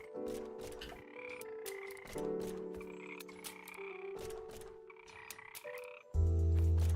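Frogs in a Godot-built video game croak continuously in overlapping layered calls with sustained tonal pulses, fairly loud and close, ending in a louder, denser burst, with no talking.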